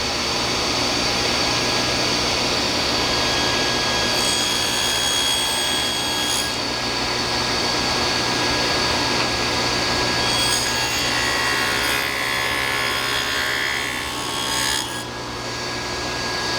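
A saw cuts a wooden dovetail for a drawer with a steady, close, raspy scraping of the teeth through the wood that continues with no talk.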